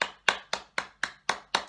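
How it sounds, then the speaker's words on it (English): Hands clap seven times at a steady, even pace during a children's birthday song session. Each clap is crisp and close, with short silences between and no talking. "let's give everyone a great big clap"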